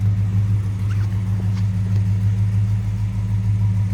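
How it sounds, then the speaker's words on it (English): A 1973 Plymouth Road Runner engine idles with a steady, deep rumble, heard close and constant, with no talking over it. "Good sounding car."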